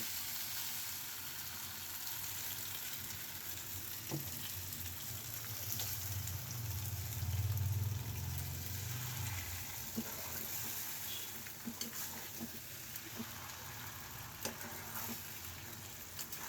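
A noodle and pasta mix fries with chicken pieces in a small wok. The sizzle is soft and steady, broken by occasional light scrapes and clicks of stirring.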